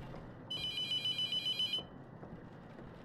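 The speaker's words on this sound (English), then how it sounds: "The phone?" A telephone rings in the horror game The Mortuary Assistant, a bright electronic trill repeating in quick pulses for just over a second, loud over a low room hum before it stops.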